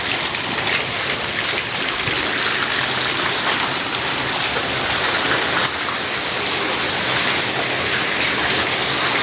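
Heavy monsoon rain pours down in a village, a dense, unbroken hiss of downpour with steady roar of water and no pauses, filling the scene loudly without voices.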